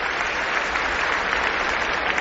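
A tennis tournament crowd in Toronto applauds in a dense, steady wash of clapping, loud and continuous for a couple of seconds without talk.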